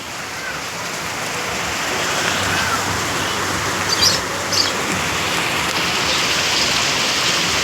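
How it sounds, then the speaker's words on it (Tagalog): Steady broadband wash of all-day rain falling, constant and fairly loud, with a couple of faint bird chirps near the middle and no voices. "Maulan na hapon. Maghapon ng ulan."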